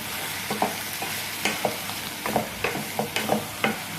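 Food seasoned with pepper, salt and MSG stirred in a pan, a low sizzle under a regular series of close spatula scrapes and taps, roughly two or three per second, with no talking.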